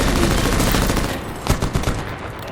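Loud, close machine-gun fire in Medal of Honor (2010) during an assault on a Taliban airfield: a dense, continuous rattle that gives way to a few separate heavy bursts near the end.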